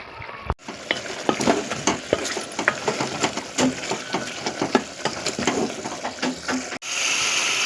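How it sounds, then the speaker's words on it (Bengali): Beef being stir-fried and browned in a pan for a beef and cabbage curry, with steady sizzling and frequent scraping stirs of a spoon throughout, close and fairly loud, with no talking. "মাংসটাকে আমি এবারে দশ মিনিট ধরে একটু কষে নেবো"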